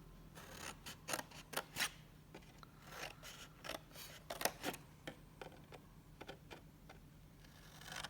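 Scissors snip repeatedly through paper card along score lines while making a Valentine treat box, a close, quiet series of sharp cuts in an irregular rhythm with brief pauses.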